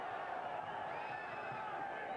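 Boxing crowd at a 1997 bout on South Padre Island, Texas, cheering and roaring as a steady, distant wash of voices that holds for the whole stretch.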